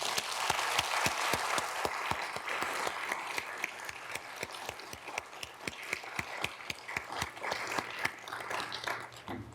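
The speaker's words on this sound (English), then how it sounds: "give you a round of applause" An audience at a leadership welcome event applauds an honoree named Jill, with sustained, dense clapping of many hands filling the room from start to finish.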